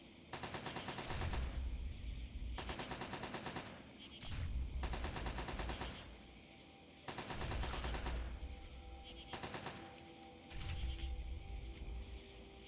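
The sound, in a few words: turret gunfire shooting an enemy in Fallout video game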